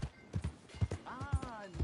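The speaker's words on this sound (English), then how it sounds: "Hey! My horse!" Horse hooves clip-clop in a rhythmic trot in Red Dead Redemption 2, several sharp close hoofbeats with a brief whinny in the middle.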